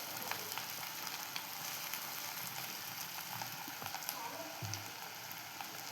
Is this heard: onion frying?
yes